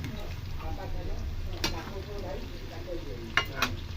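Cabbage pakoras frying in hot oil, a soft, continuous bubbling sizzle with stirring and a few sharp utensil clicks, while a voice talks over it.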